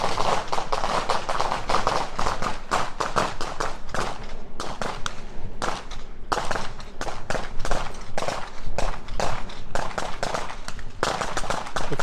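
Rapid gunfire from magazine dumps at an outdoor shooting range, dense strings of sharp cracking shots in quick succession with brief pauses, fairly close and loud with no talking.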